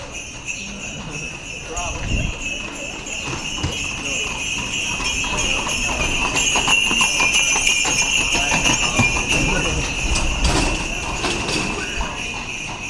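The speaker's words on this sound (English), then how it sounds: "It's a horse-drawn carriage." Hooves of a horse-drawn carriage clip-clop steadily along a street in Zermatt, Switzerland, with a high ringing tone and faint voices in the background.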